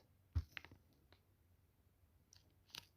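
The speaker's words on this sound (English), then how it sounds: "I will click here to send" A few sharp, quiet mouse clicks in a hushed room, with one soft tap near the start and another pair of clicks near the end, close and with no talking.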